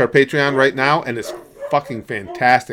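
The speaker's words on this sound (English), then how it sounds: "Sorry about the dogs going nuts." Dogs bark and yip in the background of a home while someone talks steadily over them, the barking mixed and partly masked under his voice.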